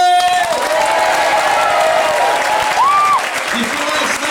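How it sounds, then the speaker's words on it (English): A live theme-park stunt show audience claps and cheers loudly on cue, a dense sustained wash of applause and whoops with a host's voice and a few whistles cutting through. "on the count of 3, I want you to clap, cheers, throw your tune in the air"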